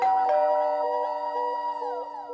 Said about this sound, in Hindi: अबे डोरबेल बज रही है